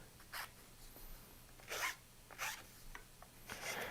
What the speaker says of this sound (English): Let's do a little filing cleanup.